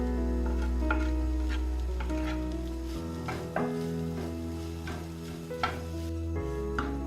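Fish roe masala is stirred in a pan with a spoon or spatula, giving scraping, clinking strokes over a steady sizzle, with a low hum running underneath.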